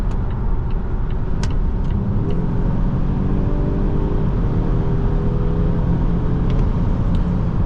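A 2024 Volvo XC60 T8 Recharge Plus accelerates, heard from inside as a loud, constant engine and road rumble with a faint rising tone partway through.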